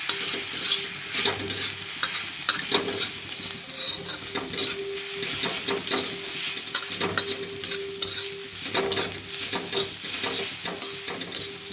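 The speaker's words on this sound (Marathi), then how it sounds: "आता आपण एकजीव करून घेऊया सगळ्याचा." A mixture of green chilies and onion being stirred in a frying pan for a pithla bhakri dish, with steady scraping strokes over a constant oil sizzle, close and alone without speech.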